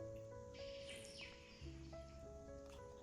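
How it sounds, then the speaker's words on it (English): Birds chirp outdoors in short, scattered high calls over a steady low hum, quiet and somewhat distant, with no talking. "And you can hear the birds."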